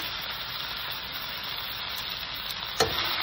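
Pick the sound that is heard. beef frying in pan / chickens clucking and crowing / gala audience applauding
beef frying in pan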